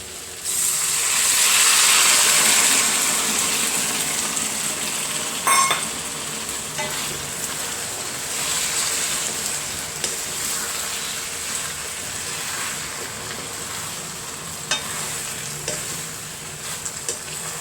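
Dragon chicken stir-frying in sauce in a hot pan: a loud, continuous sizzle with stirring and scraping throughout, a few sharp clinks of a utensil against the pan, and no talking.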